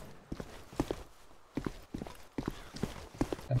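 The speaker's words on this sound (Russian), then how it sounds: "Там шаги слышно очень сильно." Footsteps in the military shooter ArmA 2, a quiet run of irregular thuds and scuffs, several steps in a row, heard faintly at a distance.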